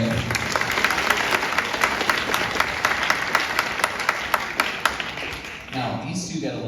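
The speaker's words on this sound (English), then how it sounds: "Come on, clap for Henry." Audience clapping for a percussionist at an 8th grade orchestra concert, with some sharp individual claps standing out over the steady applause, which drops away near the end as a voice speaks.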